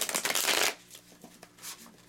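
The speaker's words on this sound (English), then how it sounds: "let's start with a new" Tarot cards shuffled by hand, a dense riffling burst followed by softer sliding and tapping of the deck, close and fairly quiet with no talk over it.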